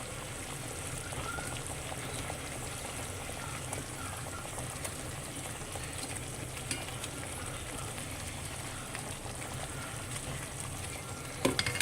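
Fish simmering in a Sri Lankan curry gravy, a soft, continuous bubbling and sizzling that holds steady throughout with a few faint clicks, quiet and close.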